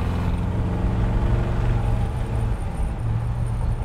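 A car with a 290-horsepower engine drives along, a steady low engine drone with road rumble throughout, fairly loud and close, with no talking.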